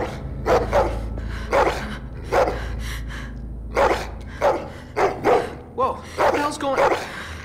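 Dog in The Walking Dead: The Final Season video game barking repeatedly in sharp, close bursts with short pauses between them, some yips and a whimpering tail at the end.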